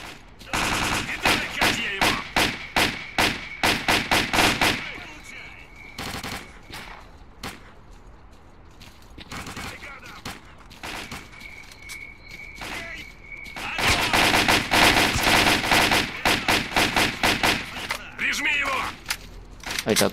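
Gunfire in the video game S.T.A.L.K.E.R. Clear Sky: loud, rapid automatic bursts fire in long runs, pause through a quieter stretch of single shots and mechanical clatter, then pick up again into heavy sustained firing.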